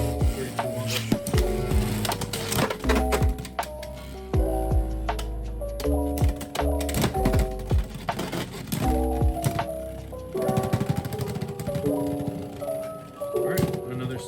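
Beyblade X tops KnightLance and Drawn Sword clash in a plastic stadium, with repeated sharp clicks and clattering metallic collisions, ringing spins and resets, while someone talks over the action.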